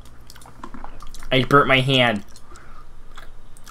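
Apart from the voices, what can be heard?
puppy chewing on something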